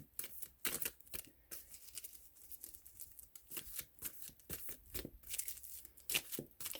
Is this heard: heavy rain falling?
no